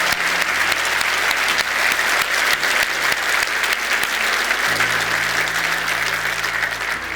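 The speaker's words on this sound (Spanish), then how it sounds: "Aplaudamos por eso." A church congregation applauds steadily and loudly for several seconds, a dense wash of many hands clapping with a low sustained tone underneath, no talk.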